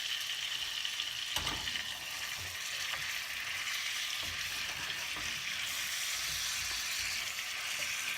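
Butter melts and sizzles in a pan while being stirred for a chocolate cake, a steady, moderately quiet frying hiss with occasional soft scraping stir strokes and no talk.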